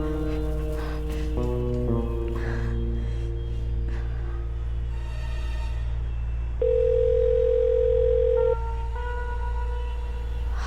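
Telephone tones on a phone call to a medical store: steady electronic beeps and shifting pitched tones over a low hum, ending with a longer, louder sustained tone before quieter beeps resume, close and with no talking.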